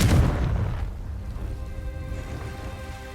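A Confringo fire spell bursts in Hogwarts Legacy on PS5: one loud, deep blast at the start, then a rumbling rain-like tail that fades gradually.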